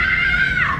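A woman gives a short, high, sustained scream at a special effects show at Universal Studios Hollywood, loud and close, lasting under a second and falling in pitch at the end.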